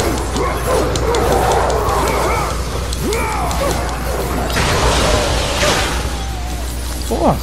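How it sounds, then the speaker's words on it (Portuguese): Hellhounds in God of War 3 bark and snarl amid clashing, shattering combat noise, loud and close against a dense game soundtrack. "Que de cachorrinho são esses aí?"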